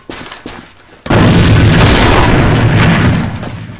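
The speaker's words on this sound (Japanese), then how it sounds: "手榴弾投擲！" A grenade goes off in the online shooter AVA, a sudden loud boom that erupts about a second in and rumbles on at full strength for nearly three seconds before easing, preceded by a few faint pops.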